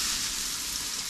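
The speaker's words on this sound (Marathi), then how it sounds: "हा कांदा फ्राय करायचा" Chopped onion sizzles in hot oil in a kadhai, a steady bright crackling hiss that stays loud and even throughout the short moment.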